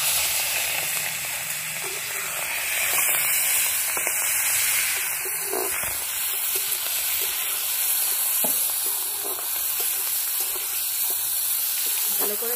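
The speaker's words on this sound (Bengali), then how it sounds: "তেলটা গরম হয়ে গেছে, লবণ হলুদ মাখানো চিংড়ি মাছটা এবার ভেজে নেব।" Prawns coated in salt and turmeric fry in hot oil, giving a steady, fairly loud sizzling hiss throughout with a few faint clinks.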